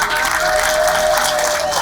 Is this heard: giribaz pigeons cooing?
no